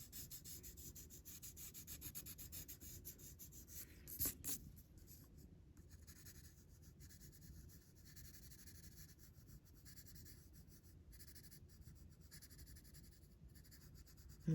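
Pencil slanted sideways, shading the dark sides of a pineapple drawing on paper: a steady, soft scratchy rubbing that continues close by without pause, broken by one brief sharper knock near the middle.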